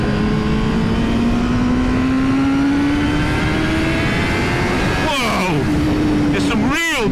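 A 2020 Honda Fireblade motorcycle engine revs hard toward its top end, holding a steady climbing whine before sharp up-and-down rev sweeps near the end, loud and close throughout.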